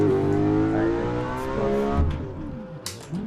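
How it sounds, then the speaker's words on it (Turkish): A BMW E92 M3 in the Assetto Corsa racing game revs and decelerates, engine tone sweeping down with a few sharp exhaust crackles and pops near the end. "Çatırtıları patırtıları duyuyorsunuzdur."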